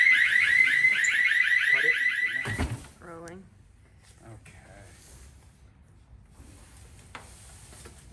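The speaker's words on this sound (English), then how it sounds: "so the alarm went off for somebody else" An alarm sounds at a storage unit facility, a loud, rapidly pulsing electronic tone for a few seconds before it stops, followed by quieter rustling and faint handling noises.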